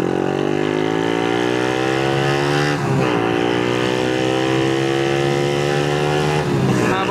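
A remapped Honda Winner X motorcycle engine revs hard and holds high, bouncing against the rev limiter, loud and close, with two brief drops and climbs back to the limit.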